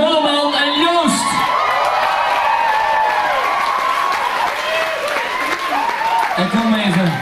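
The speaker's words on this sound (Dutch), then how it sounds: "eerst het applaus" Sustained audience applause with cheering and whoops after a couple's dance performance at an event called Op de Vaart 2014, loud and continuous throughout, with some crowd voices mixed in.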